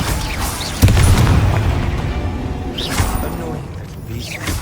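In Hogwarts Legacy on PS5, an Expelliarmus spell goes off with a heavy booming impact and crackling burst, followed by a second lighter magical whoosh and pop amid game ambience.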